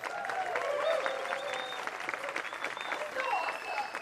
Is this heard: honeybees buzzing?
no